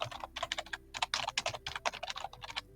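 Quick, uneven keystrokes clatter on a computer keyboard while a workflow step is renamed, crisp close taps in short runs with brief pauses, quiet and alone with no voice.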